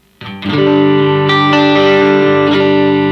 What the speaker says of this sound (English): If I up the gain, bring the volume down, we get to edge of breakup territory.